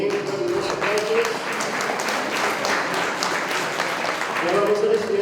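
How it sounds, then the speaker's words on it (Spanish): Sustained applause from the audience at a school graduation for motorcycle and vehicle mechanics students, clapping blended with crowd noise and a voice speaking over it near the start and end. "con los aplausos"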